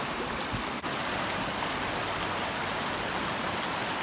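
The East Fork San Gabriel River rushes steadily past, a continuous broadband wash of flowing water with no pauses, heard up close and alone apart from one faint click.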